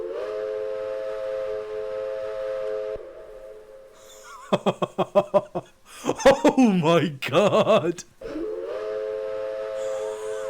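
An American steam locomotive whistle on the Flying Scotsman in Train Simulator sounds a long sustained chord, then a run of short blasts, while a man laughs and exclaims over it.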